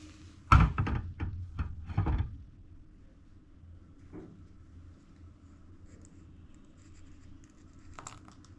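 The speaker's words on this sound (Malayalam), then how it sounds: "നമുക്ക് കൽക്കണ്ട് വിടാം" A quick burst of hard clattering and rattling knocks as rock sugar drops into a blender jar of grape juice, followed by quiet with a few faint taps.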